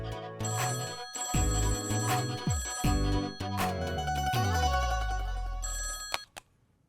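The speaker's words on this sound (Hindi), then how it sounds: "फोन बज रहा है।" A telephone rings in a home, repeated loud bursts of bright metallic bell tones in a steady pattern that stop abruptly near the end.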